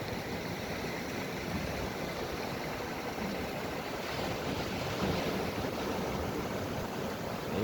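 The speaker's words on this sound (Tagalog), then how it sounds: "nakakatakot yung alon" Strong ocean waves surge against a lagoon shore in a continuous loud roar with gusting wind buffeting the microphone and a swell building midway.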